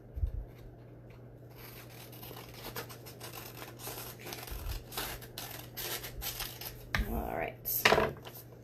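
Several quick, crisp snips of scissors cutting through paper, with light rustling and handling between cuts, fairly close.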